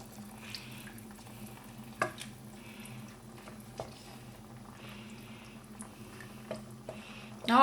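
A spoon stirring lentils and water in a pot on high heat, with faint scattered scrapes and soft knocks against the pot over a quiet kitchen hum.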